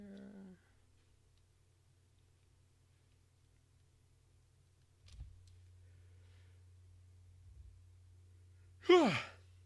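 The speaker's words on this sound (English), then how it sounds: "Yawn." A person lets out one drawn-out yawn near the end, a falling vocal sweep that follows a long near-silent stretch over a low steady hum while working on 3D art.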